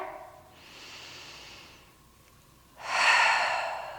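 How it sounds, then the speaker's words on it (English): A big deep breath during a Pilates mat workout: a soft, airy inhale, a pause, then a louder, breathy exhale close to the microphone, with no talking. "Take one big breath here."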